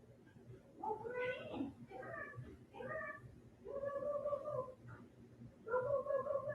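A cat meows repeatedly in a garage during a thunderstorm, a series of drawn-out, rising and falling cries close by, with short pauses between them.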